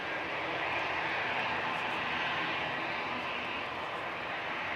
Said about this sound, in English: EasyJet to Berlin, GEZ-UN. Another A320-200,